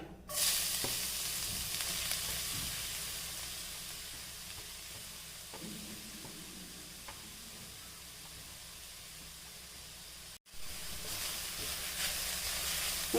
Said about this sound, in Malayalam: ഈ ചൂടായ നെയ്യിലോട്ട് നമുക്ക് നമ്മുടെ പപ്പായ ഇട്ട് കൊടുക്കാം